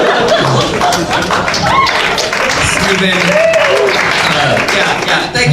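An audience at a live comedy show claps loudly and unevenly close by, with chuckles and a voice mixed in over the patter.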